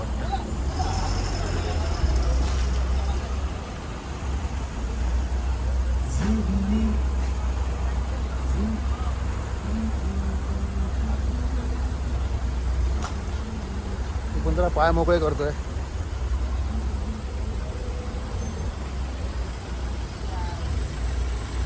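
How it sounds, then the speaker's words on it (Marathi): A highway stands jammed with trucks and buses. Idling engines give a constant low rumble with an occasional air-brake hiss, while someone talks nearby and other voices murmur in the background. "फुल ट्रॅफिक आहे बघा"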